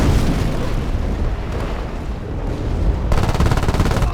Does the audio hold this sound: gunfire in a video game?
yes